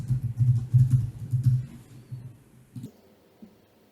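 Rapid keystrokes on a computer keyboard come in quick bursts of clicks as a seed keyword is typed, close and clear, tapering into a few spaced taps.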